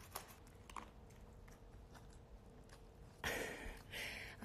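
A small dog chews and crunches its food up close, with soft bites early and a louder burst of crunching near the end, with no speech over it.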